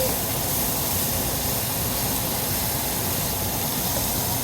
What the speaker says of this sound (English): Add onions. Saute that like so.